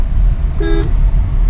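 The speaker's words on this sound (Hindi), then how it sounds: "हॉर्न दो।" Car horn gives a single short honk over steady low engine and road rumble during a beginner driving lesson on the road.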